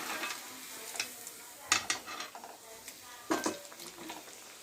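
Chicken sizzles and spits in hot oil for candy chicken, a steady low frying hiss broken by scattered sharp pops and occasional stirring clatter of a utensil against the pan.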